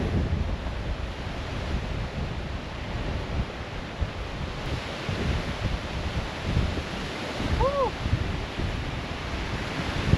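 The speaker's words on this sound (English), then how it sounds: "A little windy out there." Steady broadband wind rush buffets the microphone on the Lake Superior shore at Whitefish Point, Michigan, with a faint undertone like surf; one brief tonal chirp rises near the end.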